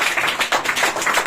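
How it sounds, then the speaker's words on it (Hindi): Classroom students clap their hands together on a teacher's command, a quick burst of several overlapping claps, close and loud, with no talk over it. "ताली मारो।"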